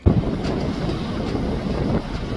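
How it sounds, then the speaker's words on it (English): Strong wind buffets and roars across the microphone in a constant low rumble near a beach in Madeira, Portugal, with faint water sounds in the background. "That's how windy it is."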